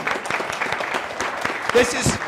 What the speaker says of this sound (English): Please clap for Doris, everyone.